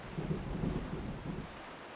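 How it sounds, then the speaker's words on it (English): A thunderstorm in the video game The Legend of Zelda: The Wind Waker: a low, rolling rumble of thunder mixed with steady rain and wind noise, heard alone and fairly loud. "Oh, we're getting a bit of a lightning storm going."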